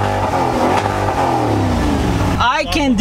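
A Corvette's engine revs loudly and close up, a sustained throaty roar with rising and falling pitch, then voices take over at the end.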